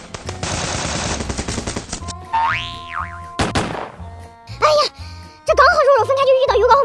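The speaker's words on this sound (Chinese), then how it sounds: "事不宜迟，我们赶紧开枪吧。" Gunfire in a battle royale video game: bursts of rapid automatic shots and single cracks mixed with cartoonish boing and sliding sound effects, loud and close, with a voice speaking over parts of it.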